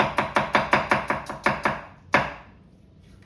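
A knife slices a red onion into juliennes on a cutting board, about ten quick, evenly spaced crisp chops close up, a short pause, one more firm cut, then quiet.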